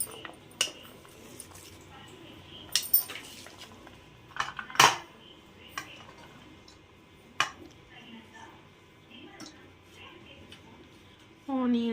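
A metal utensil pressing and smashing chopped onions for a samosa filling in a pan, giving scattered sharp clinks and scraping knocks at irregular intervals, close and moderately loud, with a voice speaking between them.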